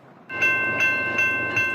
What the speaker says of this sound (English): this is what residents in this Murray neighborhood hear as Front Runner trains pass by